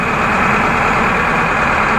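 A Tata truck engine idles nearby with a loud, steady, even rumble that holds unchanged throughout.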